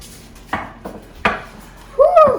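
A baking pan of brownies being pulled from an oven, with a few close metallic clunks and scrapes of the pan and rack, spaced irregularly, and a brief squeak at the end.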